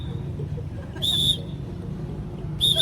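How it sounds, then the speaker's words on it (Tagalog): Two sharp, shrill blasts of a traffic whistle, one short and one near the end, sounding fairly close over a low outdoor background rumble. "Pito ni Udang."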